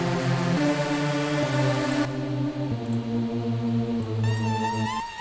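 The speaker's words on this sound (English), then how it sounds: "Without a filter, it sounds like this." A buzzy, unfiltered supersaw synthesizer built from saw waves plays sustained chords that shift every second or so, bright and harsh, with a wobbling high line near the end.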